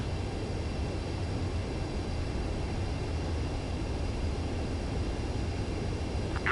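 Aircraft on a landing approach in the Ace Combat video game, a steady, loud broadband engine roar that holds evenly throughout with no talk.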